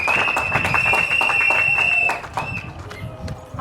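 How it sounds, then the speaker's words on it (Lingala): Audience at an orphanage event in Kinshasa applauding, a dense steady patter of many hands with a sustained tone running underneath, the clapping thinning out toward the end. "Je vous demande de les applaudir encore plus fort."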